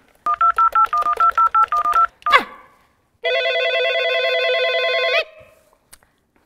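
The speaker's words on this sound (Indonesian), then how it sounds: "wow ada telepon." A telephone keypad beeps through a rapid series of dialing tones, then a short sweep, followed by a loud sustained electronic ring lasting about two seconds, all close and clear with no talking.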